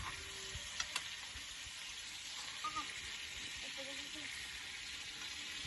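Sweet pumpkin frying in a pan gives a faint, steady sizzle close by, with a couple of small clinks and soft voices in the background.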